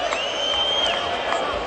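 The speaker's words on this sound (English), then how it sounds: "you can tell by the hoots of derision from the crowd" Basketball arena crowd at a Greek A1 league game between Panathinaikos and Trikala hooting and jeering in derision after a foul call, a steady dense roar of many voices with rising whoops.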